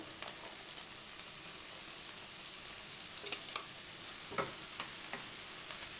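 Chopped cabbage, carrot and beans fry in a pan for vegetable vermicelli upma, with a steady close sizzle and scattered scraping taps of a stirring spoon throughout.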